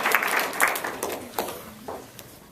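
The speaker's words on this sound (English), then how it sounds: "Please, a round of applause for our colleagues." An audience at a mentalism stage show applauds their colleagues, a brief burst of clapping that fades quickly over about two seconds, fairly close and moderately loud.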